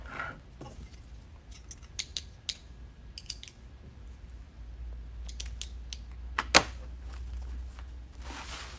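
Scissors trimming a pipe cleaner with florals for a rustic deer door hanger, giving a series of quiet, crisp snips at irregular intervals against a faint background hum.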